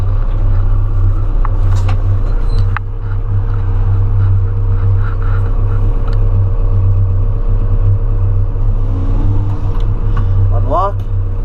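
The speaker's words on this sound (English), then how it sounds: "you got to set the bucket down on the trailer, and that'll get you down below legal height" A bucket truck lowers its bucket onto a trailer, heard as a loud, continuous low engine and hydraulic rumble that holds steady throughout, ending with a short high squeal near the close.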